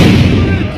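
A big firecracker going off in a village during Lebaran, a loud close blast with a deep booming body that rumbles and fades over under a second.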